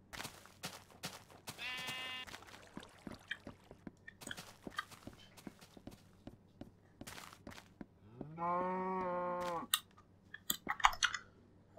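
Minecraft pig being pushed around in the game world, with several short harmonic animal calls at a distance, the loudest one near the end, over faint game sounds and clicks, with no talking.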